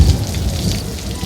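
Cartoon rain falls hard and steady, with a low thunder rumble rolling underneath. Loud and dense, with no voices over it.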